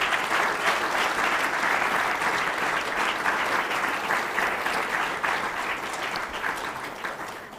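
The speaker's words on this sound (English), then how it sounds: "I'd like to give a big round of applause to the team of Practical Action and Mockup" Sustained applause from a conference audience at a humanitarian energy event, a dense steady patter of many hands that fades slightly toward the end, with no talking over it.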